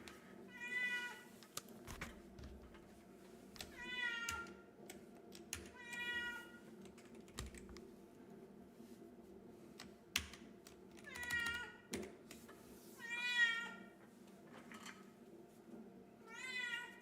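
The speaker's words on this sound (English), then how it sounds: "I always pick up the cat when she's meowing at me" A pet cat meows repeatedly in short, clear calls, several spaced bursts over a steady low hum, with faint computer keyboard typing in between.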